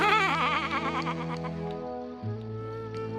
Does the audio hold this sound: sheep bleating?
yes